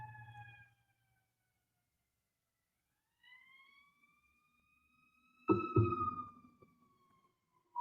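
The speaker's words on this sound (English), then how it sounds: "Do you guys hear sirens in the background?" A siren wails faintly in the distance, its tones gliding slowly upward, with a short burst of nearby noise partway through.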